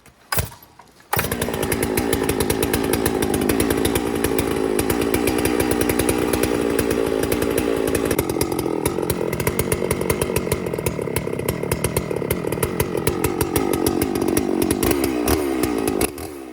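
A chainsaw starts after a brief pause, then runs loud and steady at high revs for about fifteen seconds before dropping at the end, ready to cut timber on a mountain homestead.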